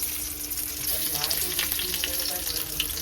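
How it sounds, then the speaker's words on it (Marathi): Garlic frying in hot oil for a Koli-style dish gives a continuous, close, dense sizzle with faint crackles throughout. "तुकडे तेल टाकलेलं, तर तेल आता गरम झालेलं आहे मला असं वाटतं. आता त्यांना आपण लसूण टाकलेलं आहे"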